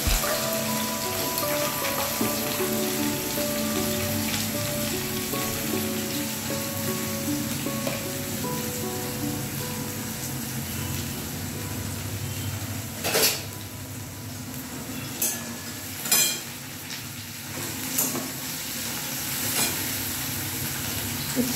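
Bitter gourd frying in hot oil in a pan, a steady continuous sizzle with occasional sharp clinks of a utensil against the pan toward the end.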